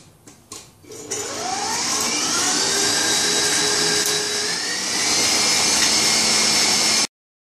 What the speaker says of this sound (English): we're going to cream the butter. Let's get started. It's going to get a little noisy.